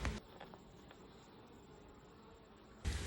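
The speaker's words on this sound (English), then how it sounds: "these bees are very aggressive" Aggressive, protective honey bees buzz faintly around a hive, a soft continuous drone with a few brief louder flicks as individual bees pass close, no talking.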